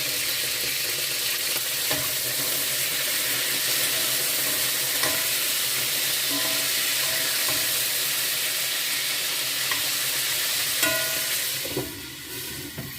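Food sizzles steadily in a hot pot of marinade while a utensil stirs, with scattered scrapes and clicks over a constant frying hiss.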